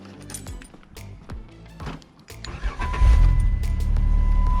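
A Jeep engine with recent mechanical problems cranks over in several short bursts, then catches and settles into a steady, loud idle close by.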